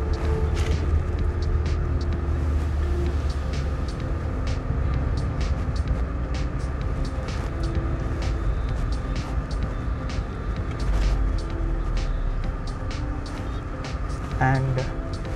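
Mahindra XUV 700 with a manual gearbox driving along, a steady low road and engine rumble inside the cabin with a person talking over it for most of the stretch.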